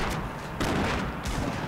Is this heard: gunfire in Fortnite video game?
yes